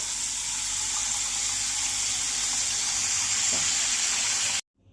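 Tap water runs steadily into a sink while plates are washed after a meal, a continuous close hiss that stops abruptly near the end.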